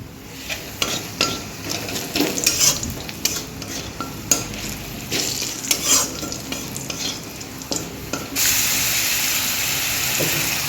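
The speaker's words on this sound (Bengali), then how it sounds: "এবার এটা নাড়তে হবে যতক্ষণ না ওই বাটার জলটা শুকাচ্ছে। হালকা হাতে নাড়তে থাকবো।" Beet paste frying in a pan in Bengali home cooking, stirred steadily with a spoon: a constant close sizzle broken by repeated scraping strokes against the pan, with no talk.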